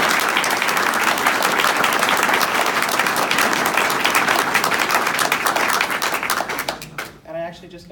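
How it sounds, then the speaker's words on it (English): A room full of people clapping loudly after a project presentation, steady applause that fades out at the end as a voice starts speaking. "So if you could all please give them a round of applause."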